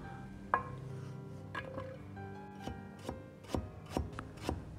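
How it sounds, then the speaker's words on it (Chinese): A kitchen knife cuts scallion whites into segments on a cutting board, about eight crisp, separate chops spaced unevenly, close and clear, with no voices. "葱白切成段"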